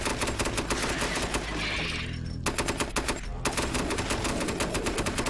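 A fast-shooting gun in a video game fires rapid automatic bursts, crisp repeated shots in a steady rattle with one short pause, loud and without speech.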